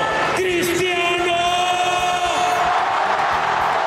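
Stadium crowd at the Santiago Bernabéu cheering for Cristiano Ronaldo, a loud roar with rising whoops and sustained yelling; a voice is heard talking through it.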